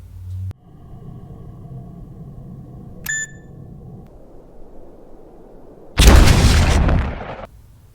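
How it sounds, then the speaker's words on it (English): A film's ending where the world abruptly explodes: a brief beep-like tone, then a sudden loud roaring blast lasting about a second and a half before cutting off, after a quiet low hum. "ending your movie with the world abruptly exploding and everyone dying"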